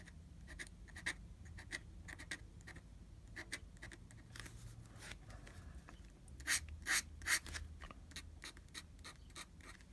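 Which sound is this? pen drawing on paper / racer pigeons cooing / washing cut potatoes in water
pen drawing on paper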